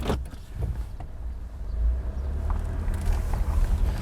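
A Toyota RAV4's four-cylinder 2.5-litre engine hums low and steady while driving, with a slightly rough rumble that swells a little and some road and wind noise.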